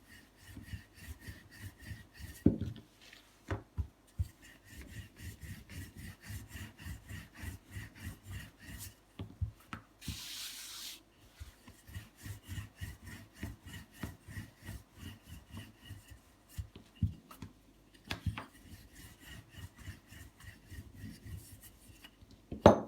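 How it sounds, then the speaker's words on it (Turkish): A rolling pin works over balls of lavash dough, giving rapid repeated rubbing strokes in steady bursts, fairly close with short pauses between. "Diğer bezelerimizi de aynı şekilde açalım."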